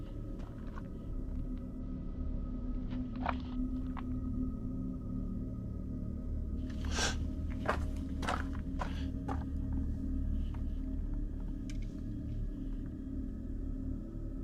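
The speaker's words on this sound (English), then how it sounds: "Oh, those footsteps." Footsteps crunch in the woods at a campsite at night, faint and a short way off, a handful of soft irregular steps over a steady low rumble of background noise.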